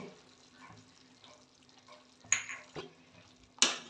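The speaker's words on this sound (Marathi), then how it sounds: "मसाले सगळे ढवळून घेते." Spoon stirring spices into cabbage rice in a pan, a soft scraping and gentle sizzle with a few sharper clinks of metal against the pan, near and mostly quiet.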